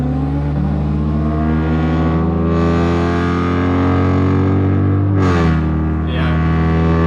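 Cars roll racing, including a turbocharged Audi RS3 and an LS-swapped Nissan 300ZX, heard from inside the car; loud sustained engine drone with rising revs and sharp gear-shift dips, continuous throughout.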